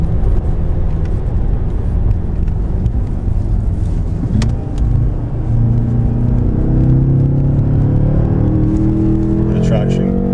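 A 2015 BMW M5 30 Jahre engine drones loud and continuous from inside the car while driving a winding road, its tone rising and falling with throttle and gear changes, with someone talking over it.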